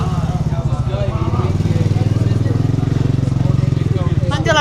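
Motor scooter engine buzzing steadily close by in a busy Marrakesh market street, a continuous putter that rises at the end as it passes, with voices talking over it throughout.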